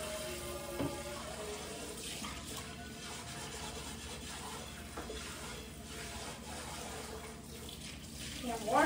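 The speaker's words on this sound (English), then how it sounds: "Washing out this pan." Water runs steadily from a kitchen tap while a pan is rinsed out, a continuous broadband hiss with a few brief clatters near the start and end.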